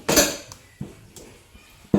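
A spoon clanks against a pot as chicken haleem is stirred, giving a few separate metallic knocks and scrapes, fairly close and moderately quiet.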